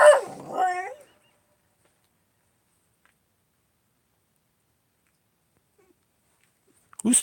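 A dog gives a short burst of close yapping barks with whimpering yips, then a long silence, with another sharp bark cut off right at the end.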